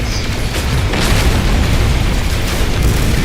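Photon cannon fire in the space game No Man's Sky, a dense, loud, continuous roar of booming bursts with rumbling low end, close up and with no voices.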